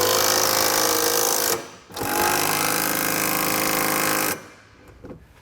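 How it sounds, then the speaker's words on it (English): A powered socket driver rattles hex frame bolts tight with a 17mm socket while a Curt trailer hitch receiver is fitted to a 2017 Hyundai Accent, two loud buzzing bursts separated by a brief pause, then quiet. "We can now go back and tighten our hardware. We're going to use a 17mm socket for our frame bolts."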